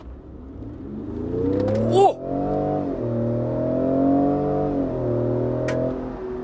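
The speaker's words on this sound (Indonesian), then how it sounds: "suara mesinnya juga enak kenceng nih mobil ini kenceng" A Ford F-150 Raptor pickup truck engine revs hard in sport mode and steadily climbs in pitch as it accelerates, loud and close, with a brief murmur from a voice.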